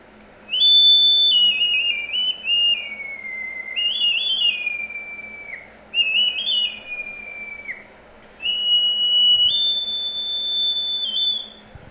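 Two-tone ceramic whistle shaped like a traditional Wayuu doll, blown in a run of shrill phrases that jump between its two pitches with sliding, warbling breaks, fairly close and loud against faint room noise.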